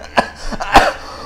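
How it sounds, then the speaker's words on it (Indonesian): A single person coughs loudly and close up, two or three sharp bursts in quick succession with a throat-clearing quality, and nothing else follows. "Bukan batuk corona."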